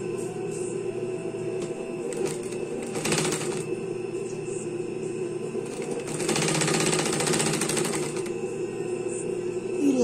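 A sewing machine runs a narrow hem on skirt fabric with a fine hemming foot, giving a steady close mechanical whir with louder bursts of fast stitching and no talk.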